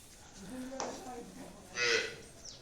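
A Jersey cross dairy cow moos twice at a farm, a low drawn-out call followed by a louder, brighter one, close by.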